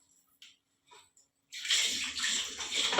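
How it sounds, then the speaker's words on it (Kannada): Water gushes steadily into a container, a loud continuous rush starting after brief faint knocks and clatter, close by with no talking. "ಇನ್ನೂ ಹೊರಗಟ್ಟ ನೀರು ತುಂಬಬೇಕು."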